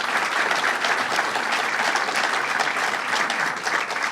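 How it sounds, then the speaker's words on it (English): Dense, steady applause from a large audience at a Long Island event with Governor Cuomo on the property tax cap, loud and continuous throughout with no talk over it. "Let's give him a round of applause."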